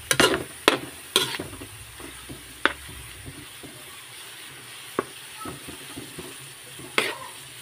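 Ground pork (giniling) fries in a pan with a soft continuous sizzle, punctuated by sharp scraping clacks of a utensil stirring, clustered at first and then more scattered, with no talking.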